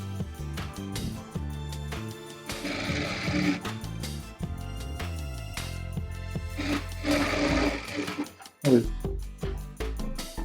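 A sewing machine stitching the hem edge of a Patiala salwar, a close whirring drone that runs in bursts with brief pauses and shifts in pitch as the fabric is fed.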